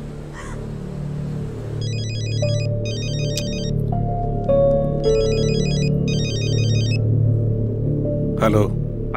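A mobile phone ringtone plays an electronic melody in repeating bursts, layered over a low rumbling background and some voices in a movie scene.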